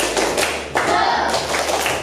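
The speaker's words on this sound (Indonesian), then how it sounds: "kita tepuk semangat dulu seperti biasa" An Indonesian primary school class claps together in a rhythmic spirit-clapping routine, a quick run of close, overlapping hand claps with a sharper burst near the middle and no voices.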